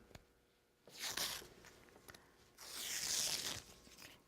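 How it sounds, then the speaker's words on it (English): Tape peeled off fabric during center-lap zipper sewing, two quiet bursts of ripping and crinkling, the second longer and steadier, close to the mic with no talk. "You're going to peel off your your tape."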